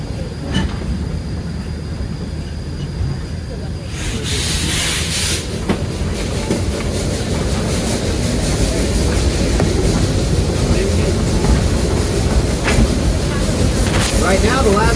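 A Heisler geared steam locomotive at Roaring Camp hauls cars up a very steep narrow gauge grade toward Bear Mountain, giving a steady loud rumble and rattle of wheels and cars with occasional squeal, while a voice talks over it.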